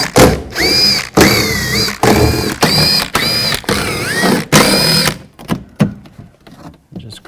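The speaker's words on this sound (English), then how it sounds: "We're going to take all of those out. Use a 10mm socket." A cordless driver with a 10mm socket spins out small bolts along the edge of a 2009-2018 RAM 1500 truck door panel: several loud, close whirring bursts with pitch sweeps, followed by faint clinks and handling.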